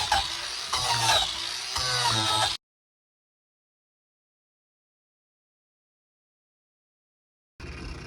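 Power grinder shredding and stripping soft driftwood during a sculpting and carving job, a dense rough buzz of abrasion lasting a few seconds, then a long gap of silence before the grinding resumes briefly at the end.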